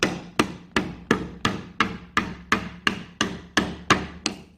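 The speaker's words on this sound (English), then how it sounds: "you just want to take your little rubber hammer and just tap it on" A small rubber hammer taps steadily on a rolling 4x8 shop table, eleven evenly spaced, fairly loud knocks in a regular rhythm, each with a short decaying ring, and no talking.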